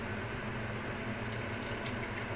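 Purified water pours in a steady, continuous stream, a close, even rush with no pauses and no voices.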